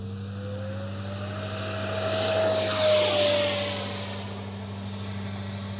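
A small jet engine whines as an F9 Cougar 80mm RC model jet passes, its high-pitched roar swelling louder overhead then fading, over a steady low hum.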